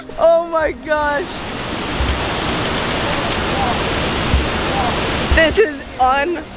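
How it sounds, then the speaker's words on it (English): Many waterfalls in Chiapas, Mexico, with very blue water give a steady, broad roar of rushing water through the middle stretch. People talk over it at the start and again near the end. "There's so many waterfalls."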